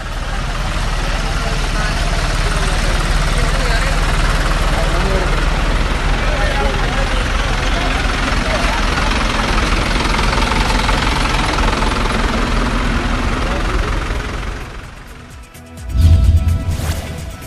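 Many tractor engines at a Congress party tractor rally on a road in Thiruvananthapuram, a loud, steady continuous rumble and drone of idling and running engines that dips near the end before a brief closer burst.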